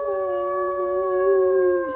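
A person imitates a wolf, giving one sustained, wavering howl-like cry for about two seconds, clear and close, with no other sound.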